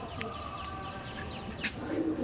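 Madrasi pigeons coo softly at a sale, with a few faint chirps over a low background hum and no voices.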